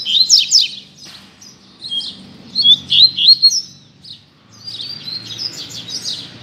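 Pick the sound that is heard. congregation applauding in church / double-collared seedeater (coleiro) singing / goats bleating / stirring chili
double-collared seedeater (coleiro) singing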